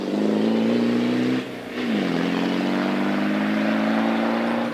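A Land Rover rally car at the 2018 Scottish Borders Hill Rally drives over hilly terrain, its engine droning loud and close with a brief dip in pitch and volume, then pulling steadily again.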